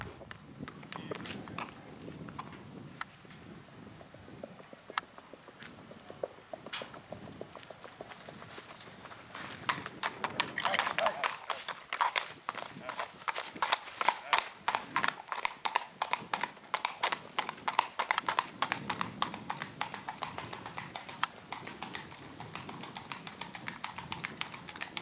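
A ridden Tennessee Walking Horse moves at a singlefoot gait during a stable play day, its hooves clip-clopping in a quick, steady rhythm that grows louder and denser midway as the horse passes close.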